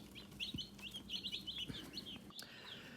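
Meat chicken chicks in a brooder give a quick run of high, thin chirps and peeps, close by and fairly soft over a low steady hum, with no talking.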